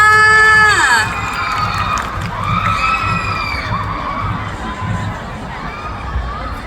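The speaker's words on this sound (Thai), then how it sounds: "ขอเสียงปรบมือด้วยค่ะ" Students at a school campaign assembly clap and cheer after a candidate is introduced, a crowd roar with shouts and whistles over rhythmic low thumping, loud at first and then settling, with a voice speaking at the start.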